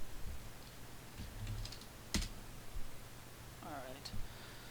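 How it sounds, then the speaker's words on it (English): Scattered clicks of typing on a computer keyboard with sticking keys, faint and uneven against steady background hiss, with a brief voice murmuring near the end. "Keys are sticking here."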